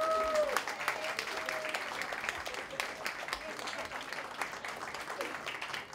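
A live music venue crowd breaks into sustained applause at a CD release concert, steady dense clapping throughout with a voice briefly audible over it at the start.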